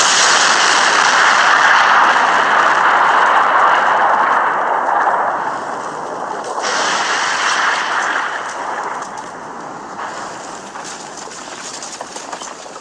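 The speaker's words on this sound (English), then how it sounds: "Gine then charged her Kamehameha wave and fired it at Cooler immediately" Anime-style energy wave blast, a Kamehameha fired at an enemy, heard as a loud, sustained roaring rush of noise that dips midway and then continues as a steady blasting wash, with no talk.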